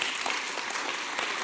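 Brief burst of steady applause from the audience at a Fresno city council meeting, a dense crowd of hands clapping continuously and fairly close for a second and a half.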